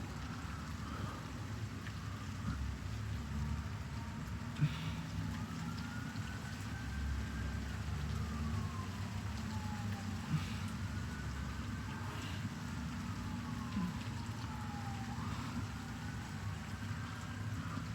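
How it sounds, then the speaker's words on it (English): Steady rain falls through a thunderstorm as an even, hissing wash with a low rumble underneath and a siren wailing faintly in the distance. "Rain."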